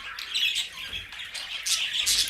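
Two male canaries kept indoors sing continuously, bright warbling trills and chirps that rise and fall without pause, close and fairly clear.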